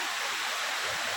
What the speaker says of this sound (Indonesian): Ini dia air terjun